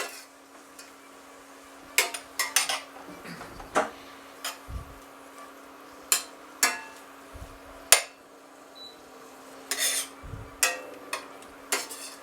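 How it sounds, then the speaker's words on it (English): A utensil scrapes and clinks against a pan while beef is stirred to brown, giving scattered sharp taps and knocks over a steady low hum, fairly close, with no voices. "Now the idea is to keep stirring them so they brown."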